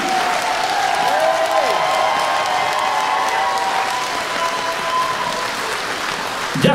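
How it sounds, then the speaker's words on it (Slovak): Concert audience in Topoľčany, Slovakia, applauding and cheering loudly and steadily throughout, a dense wash of clapping with crowd voices and a sustained tone over it. "Obrovský potlesk, Topolčany!"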